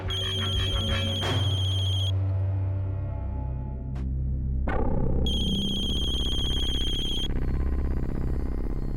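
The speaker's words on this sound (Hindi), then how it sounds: "ये अम्मा हमेशा गलत टाइम पे फोन करती है।" A phone ringtone plays a bright, repeating electronic melody, pausing briefly before starting again, fairly close and clear with no talking.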